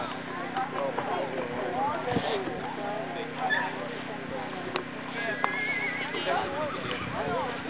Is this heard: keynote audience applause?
no